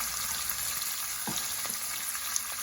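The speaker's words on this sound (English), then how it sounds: "It's cooking there. The smell is really good. And I'm gonna add my okra." Salty fish and okra frying in a pan for vegetable rice, a steady crackling sizzle with a faint stir, close and unbroken with no talk.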